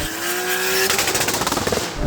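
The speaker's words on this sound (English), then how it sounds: "Oh, and the rev limiter!" A limited-edition 80-series Toyota Supra TRD's twin-turbo engine screams up loudly and close, then bounces rapidly against the rev limiter in a stuttering burst before pulling again.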